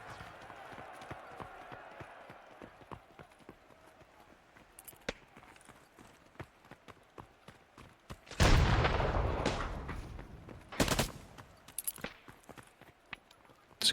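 A grenade bursts onto a bomb site in the Hunt video game, a heavy close boom with a rumbling tail, followed by a second sharp blast of gunfire amid quieter game ambience and faint footsteps.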